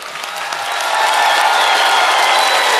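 Arena crowd applauding a figure skating pair, Jerome Blanchard and Yulia Savicheva, on an ice show, a broad wash of clapping that swells after the first second and holds loud and steady.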